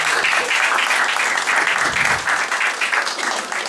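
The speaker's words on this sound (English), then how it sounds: "Yeah, keep clapping. Why'd you stop?" Comedy club audience applauding steadily and loudly for the full stretch, a dense wash of clapping hands with little variation and no talk over it.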